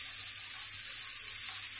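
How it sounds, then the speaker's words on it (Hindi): Fried okra tipped into cooked masala, hissing with a steady bright sizzle that carries on evenly throughout at close range, with no voices. "मसाला हमारा पक चुका है, अब हम इसमें डाल देंगे भिंडी"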